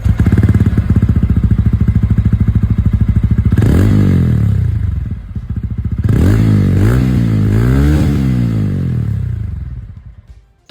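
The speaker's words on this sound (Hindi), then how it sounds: "अब मैं आप लोगों को यहाँ पर जो रॉनिन यहाँ पर 225 है इसकी भी आवाज़ सुना दूं" TVS Ronin 225 motorcycle on its stock exhaust, a steady loud thumping idle broken by a few sharp throttle blips that rise and fall, with a brief dip before the revs return and fade at the end.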